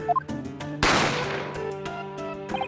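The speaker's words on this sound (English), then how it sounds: "a gunshot rang out from the dining area" A single sharp gunshot sound effect from The Great Ace Attorney video game bursts out suddenly and decays over about a second, set against sustained musical tones and short chimes.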